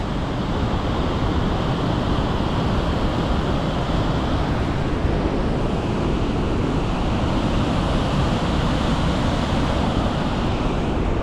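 Loud, continuous roar of falling water fills the whole stretch, a dense steady rush without pause.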